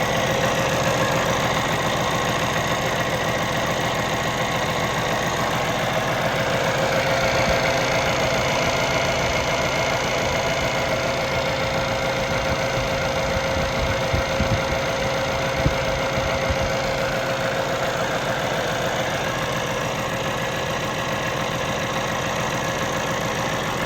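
A Cummins ISX diesel in a Peterbilt 579 truck idles steadily with its oil filler cap removed, a continuous low rumble with a faint knocking texture that stays even throughout, with no voices.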